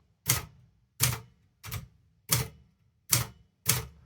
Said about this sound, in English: When typing on a typewriter, you need a staccato touch.